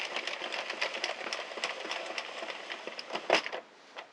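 An Addi or Sentro circular knitting machine being cranked to knit a trailing ivy flat panel, giving a steady run of quick, close clicking and ratcheting ticks that stop near the end.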